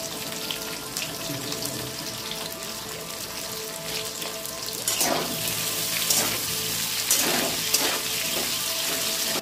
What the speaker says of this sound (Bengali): এঁচড় কটাকে লাল করে ভেজে নেব বন্ধুরা